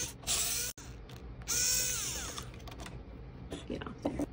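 A small power driver whirs in short bursts as screws are removed from the hotend heating assembly of a Bambu Lab A1 Mini 3D printer, with a pause between bursts and light clicks and handling noise after.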